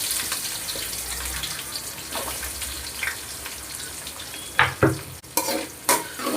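Shallots and onions sauté in oil with mustard seeds, cumin and fennel, giving a continuous close sizzle with stirring, then a few sharper scrapes of the spoon toward the end, with no talk.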